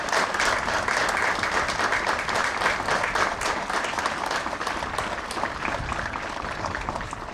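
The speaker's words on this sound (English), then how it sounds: "give them a round of applause for their service as well here" A crowd at a Memorial Day ceremony applauds volunteer fire department, EMS and police, sustained moderately distant clapping that stays steady throughout, with no one speaking over it.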